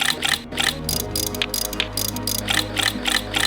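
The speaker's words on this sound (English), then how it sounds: "Let's put in some spark plugs." A ratchet wrench clicks in quick rapid bursts while spark plugs are fitted into an Audi TT engine, loud and close, with brief pauses between strokes.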